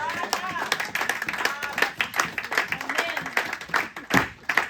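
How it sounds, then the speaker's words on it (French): Quick, rhythmic clapping from a church congregation, sharp repeated claps in a loose beat mixed with voices and cheering during a Sunday service. "On va donner une acclamation au Seigneur."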